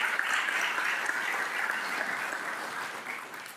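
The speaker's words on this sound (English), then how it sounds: "please join me in giving these folks who worked so hard for so long a real round" An outdoor crowd at a town green dedication and ribbon-cutting ceremony claps in sustained applause that slowly tapers off near the end.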